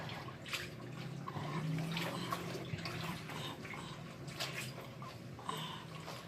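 Clothes washed by hand in a tub of water, with soft continuous sloshing and splashing, intermittent drips and swishes, fairly quiet and close, with no talking.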